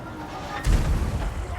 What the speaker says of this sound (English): Hell Cannon going to be focusing on the Black Orcs by the looks of it.